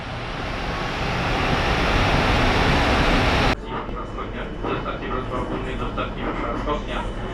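Interior of a moving Polish intercity train: a loud, steady rush of wheels and air cuts abruptly to a quieter, rumbling carriage with faint clatter and an announcement-like voice over the noise.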